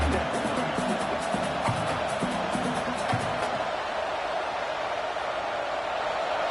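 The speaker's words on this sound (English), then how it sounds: "This crowd bringing the energy and noise early." A large American football stadium crowd roars in a steady, dense wash of cheering and noise, with faint voices underneath.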